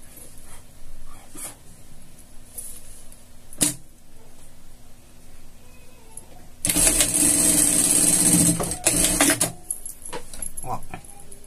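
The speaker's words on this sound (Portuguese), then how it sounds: "a gente vai passar uma costura separando esse funilzinho aqui" A sewing machine runs a stitched seam across fabric to divide off a small funnel-shaped section of a scout costume, whirring loudly in one steady burst of about three seconds, with quiet handling noises and brief taps before and after.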